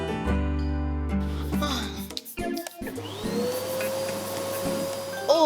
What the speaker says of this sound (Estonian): Kas see on hai tolmuimejaga?